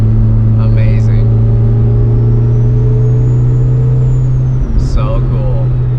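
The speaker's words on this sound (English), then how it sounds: "That turbo sounds so good." A Toyota Celica GT-Four turbo engine on a racetrack, heard from inside the car as a loud steady drone with a high whine, while people talk over it.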